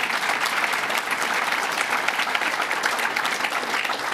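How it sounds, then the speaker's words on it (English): An audience claps for a team at a public announcement about transforming Penn Station and the Farley Post Office Building, with dense, sustained applause that stays strong and even for several seconds. "And let's give Howard and the entire team a round of applause."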